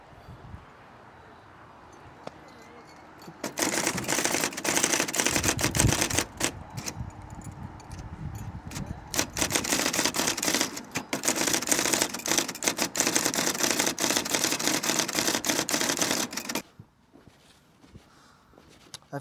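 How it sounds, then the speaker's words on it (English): A battery-powered IBM Selectric electric typewriter types in a fast, dense burst of sharp mechanical clacks and thumps lasting over ten seconds, loud and close, with quieter room tone before and after. "this wonderfully lightweight and portable electric typewriter"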